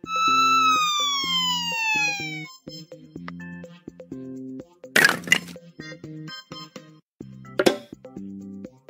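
A police car siren in a children's vehicle puzzle game gives a loud, falling electronic wail over light, bouncy game music, with sharp cracking effects later on.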